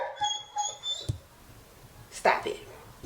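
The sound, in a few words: dog whimpering at stranger dogs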